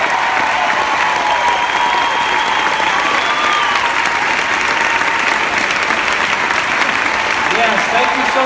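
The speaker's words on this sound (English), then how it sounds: "Let's give them a big round of applause for your service" Audience applause honoring veterans at a live event, a dense, sustained clapping that fills the room at full volume from start to finish.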